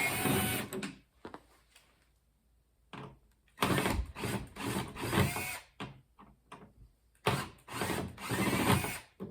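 Power drill backing out screws from the hood of a NordicTrack T6.5 treadmill, several short close bursts of whirring separated by quiet pauses, with faint handling noise between them.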